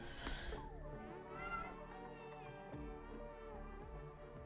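A cat gives a faint, sliding meow early on, set back from the microphone against a steady, low background hum with no talking.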